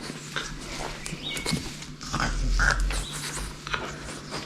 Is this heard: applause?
no